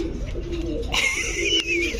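A pigeon coos low and soft, then a sharper bird call rises over it, close by and fairly quiet.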